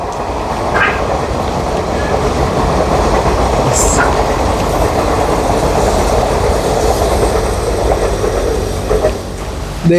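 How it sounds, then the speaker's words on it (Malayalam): A train rolls past on the rails with a loud, steady rumble and faint clickety-clack, a few higher squeaks cutting through near the end. "അപ്പോൾ അവിടെ നിന്ന് ട്രെയിൻ പോകുന്നൊക്കെ അടിപൊളിയായിട്ട് കാണാം"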